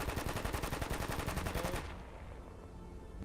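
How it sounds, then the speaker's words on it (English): A machine gun fires a fast sustained burst of evenly spaced shots outdoors during a tactical training drill, loud and close for almost two seconds, then stops, leaving quiet ambient noise. "There's your machine gun."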